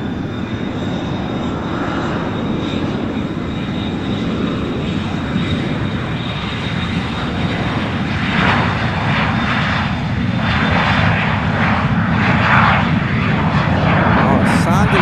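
Fixed-wing aircraft taking off from runway 10L at Fort Lauderdale airport, a steady loud engine roar that swells slightly over the clip, heard at moderate distance with continuous broadband rumble.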